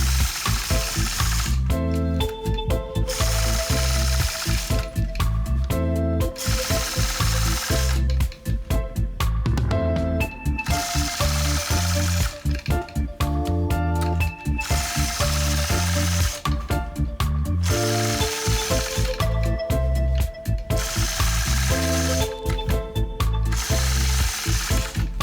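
Sewing machine quilting a heart shape with a Sway 3 ruler's concave side: a loud, steady mechanical stitching hum that runs in bursts, stopping and restarting every few seconds, no talk.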